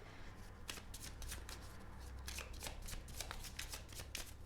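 A deck of Guardian Angel oracle cards is shuffled nearby in a steady flutter of soft riffling slaps that repeat throughout over a low background hum.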